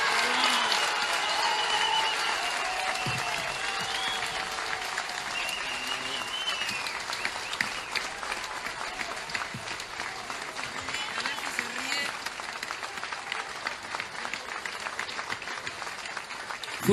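Applause at a Frente Amplio political rally in Uruguay, a large crowd clapping steadily and densely for the whole stretch, with cheering voices mixed into the clapping.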